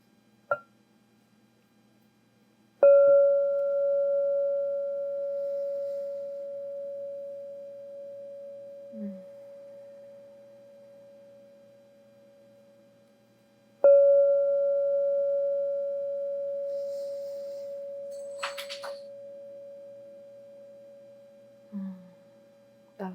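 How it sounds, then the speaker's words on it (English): A singing bowl rung three times to open a meditation, each strike a sharp onset followed by a long pure sustained ring slowly fading; a cat makes small noises in the background near the end. "So I'm going to ring my singing bowl 3 times."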